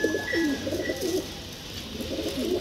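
Pigeons coo in repeated low, rolling phrases, close and fairly loud, with no talk over them.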